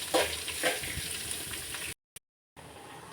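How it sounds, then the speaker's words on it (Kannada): Onions frying in oil in a home kitchen for raw-mango chitranna, a steady broadband sizzle close to the pan with a few stirring bumps, then a brief cut to near silence before the sizzle returns. "ಎಣ್ಣೆಯಲ್ಲೇ ಫ್ರೈ ಮಾಡ್ಕೋಬೇಕು."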